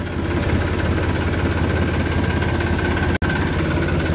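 A tractor stands idling with its sugarcane trolley hitched, its engine chugging in a loud, steady, rumbling rhythm close by, with one brief cut-out near the end.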